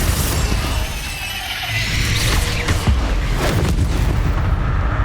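Magical blasts from Bombarda and Confringo spells in the Hogwarts Legacy video game, heavy booms and bursts layered over a dense, continuous rumble of in-game combat, loud throughout with no talking.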